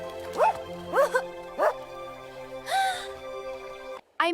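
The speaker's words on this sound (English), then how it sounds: "Bark, bark, bark." A dog barks three times in an even rhythm, then lets out a longer, higher whining yelp, close and fairly loud, with no talking.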